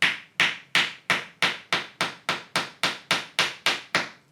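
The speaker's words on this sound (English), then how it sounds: "because the patch is compressible and it takes up space, you use the mallet here" A mallet taps a compressible patch down the barrel of a Stevens Long Tom 12 gauge muzzleloading shotgun, twelve sharp, evenly spaced knocks about a third of a second apart, close and clear with no talking.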